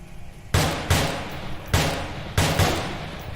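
Four loud single gunshots from an M16A4 rifle in the virtual reality shooter Onward VR, spaced about a second apart, each with a sharp crack and a lingering decaying tail.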